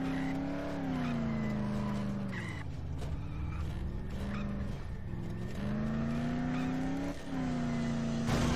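A car engine drones steadily in Dead Island while the driver parks, its pitch rising and dipping through the maneuver with occasional clunks, loud and close throughout.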